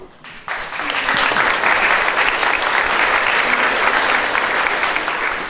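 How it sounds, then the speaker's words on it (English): An audience at a debate between Bob Murphy and David Friedman breaks into loud, dense applause that starts suddenly and carries on evenly, with faint voices underneath. "You can just hold the applause"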